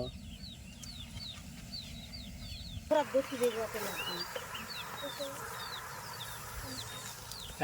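Chickens cluck and chirp repeatedly in a village yard during evening cooking, faint and somewhat distant, with people talking nearby.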